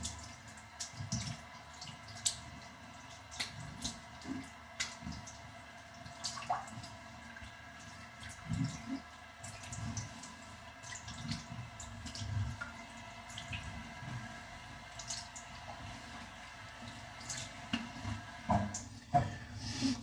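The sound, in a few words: washing face with cold running water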